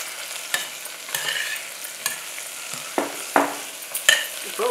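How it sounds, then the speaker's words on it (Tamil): Chopped spring onions fry in a pan of rice dish ingredients, giving a steady, moderate sizzle broken by repeated scraping stirs of a spatula at roughly one-second intervals, close up and with no voices. "இப்போ கடைசியாக கட் பண்ணி வச்சுருக்கிற வெங்காயத்தால் போட்டுடணும்."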